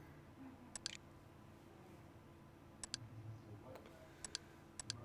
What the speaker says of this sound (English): Let's turn off this clicking sound now.